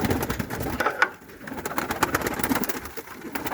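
Black Turkish pigeons coo softly and repeatedly close by, a low murmuring chorus with faint rustling in the background.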